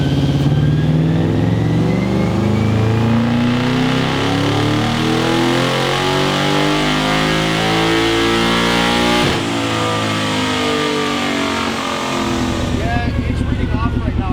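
The 1UZ V8 swapped into a mini-truck revs hard on a dyno, its loud, close engine roar climbing through the rev range with a brief dip before rising again.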